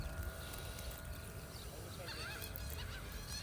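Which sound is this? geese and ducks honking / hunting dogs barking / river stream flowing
geese and ducks honking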